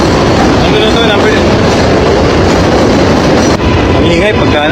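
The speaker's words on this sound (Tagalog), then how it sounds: "Ang ingay pagka dumadaan yung MRT." An MRT train rumbles past overhead on an elevated line, a loud, continuous roar of rail noise with rattling wheels that swamps the street, with people talking beneath it.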